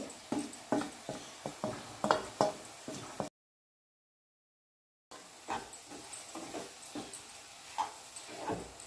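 A spoon scrapes and taps rhythmically in a pan as chilli powder, salt and coriander powder are mixed into bitter gourd curry with onion paste, a quick series of clinks broken by a brief silent gap.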